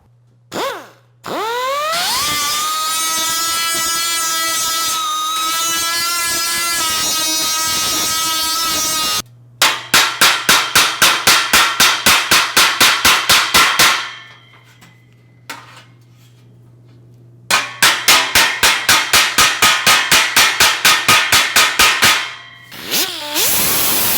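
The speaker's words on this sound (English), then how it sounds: "we'll do a little hammer and dolly and try to flatten that out real nice" A loud whining tool runs first, then two long bursts of rapid, evenly spaced metallic hammer blows ring out close by as a hammer and dolly flatten car body sheet metal.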